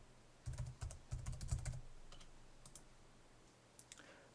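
Typing a login ID and password on a computer keyboard: a quick burst of close, crisp key clicks, a short pause, then a few scattered final taps in a quiet room.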